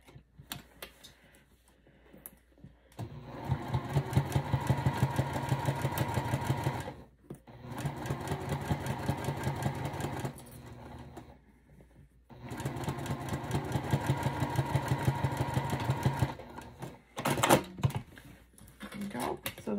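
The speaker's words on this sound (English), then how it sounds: "You're gonna sew it, sew the opening closed as close to the edge as you possibly can." A sewing machine stitches the opening of a sparkle zipper pouch closed near the edge, running in three long steady bursts separated by short pauses, close and fairly loud with a rapid needle rhythm.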